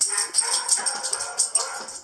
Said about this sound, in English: My phone's barking at me